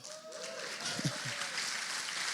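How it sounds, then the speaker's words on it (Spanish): A church congregation claps during a Sunday service, a steady, soft spread of applause with a voice briefly audible over it and a few louder claps close by. "si van a aplaudir, aplaudan bien o no aplaudan"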